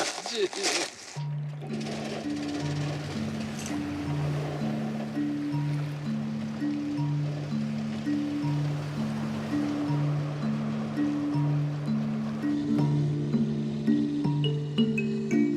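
A boat engine warms up on the water, its low steady idle thrumming with a regular pulsing rhythm under a light wash of water, close and continuous after a brief bump at the start.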